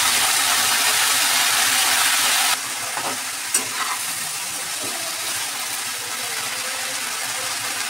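Washed leafy greens frying in a pan, a loud dense sizzle that drops to a steadier softer hiss partway through, with occasional stirring scrapes and knocks, close and without talk.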